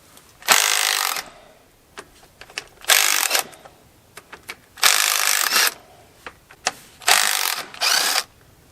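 A 12-volt DeWalt impact driver hammers a bolt on a bulldozer clutch and brake adjustment in four loud, sharp rattling bursts of about a second each, with short clicks and handling noises between them and no talk.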